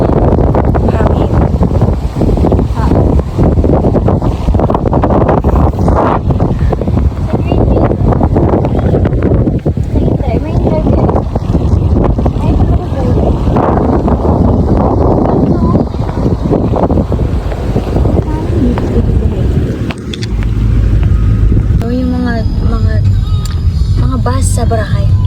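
Loud, constant wind buffeting the microphone with a heavy low roar throughout, voices faintly talking beneath it.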